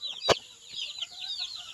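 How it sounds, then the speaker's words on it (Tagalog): Rhode Island chickens cluck softly and chirp at feeding time on scraps of reject fruit, with one sharp knock or peck early on and quiet, scattered calls through the rest. "Magpapakain po ako ng manok."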